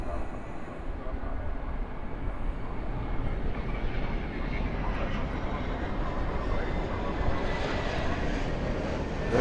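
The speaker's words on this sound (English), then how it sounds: "That plane you're looking at is going to Miami." At Los Angeles International Airport, a jet airliner bound for Miami produces a loud, steady broadband roar that lasts throughout, with a voice talking faintly beneath it.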